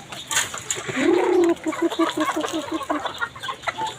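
Chickens cluck close by, one giving a loud drawn-out call followed by a rapid run of short, evenly spaced clucks, with faint rustling and other fowl sounds in the background.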